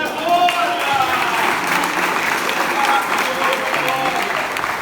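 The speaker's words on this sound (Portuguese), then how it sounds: "E as palmas." A congregation at a Portuguese-language evangelical church service bursts into sustained, lively applause that carries on evenly from start to finish at a moderate, full level.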